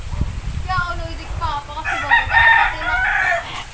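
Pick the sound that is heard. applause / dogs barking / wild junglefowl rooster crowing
wild junglefowl rooster crowing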